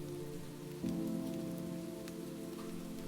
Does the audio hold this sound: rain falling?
yes